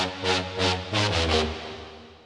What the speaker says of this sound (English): I couldn't find that, so I just made a horn sound in Serum.